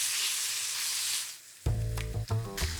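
Beef ribeye browning in a pan, a loud broad sizzle for over a second, then a dip and a shift to heavier tonal, clattering pan noise as pieces are flipped.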